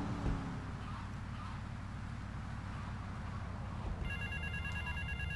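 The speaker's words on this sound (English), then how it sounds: "Just convenient how the phone's ringing once I get there." A phone rings in Grand Theft Auto Vice City, its electronic tone starting partway through over a steady low engine rumble.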